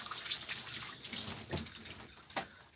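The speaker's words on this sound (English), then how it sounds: "rinse my hands" Hands are rinsed under a running sink tap, a steady close stream with splashes and small surges as the hands move through the water, with no talking.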